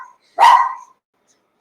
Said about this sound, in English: See, now you got the dog started.